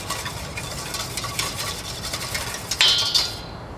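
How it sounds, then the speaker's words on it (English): A whisk clicks rapidly and steadily against a bowl as buttermilk and egg are beaten together, with a brighter metallic scrape near the end. "I'm going to whisk that up"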